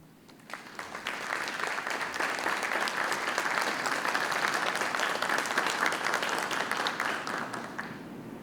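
Audience applause at a book festival, quiet at first, then swelling quickly into a steady, dense clapping from a sizeable crowd that holds evenly before starting to fade at the end.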